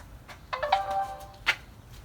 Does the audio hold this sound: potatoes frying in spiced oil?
no